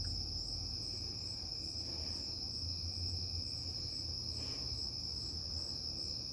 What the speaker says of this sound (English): Hear the crickets singing in the background.